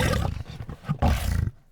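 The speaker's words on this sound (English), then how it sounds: "The lion." A lion roars close and loud in two heavy surging bursts over about a second and a half, then falls silent.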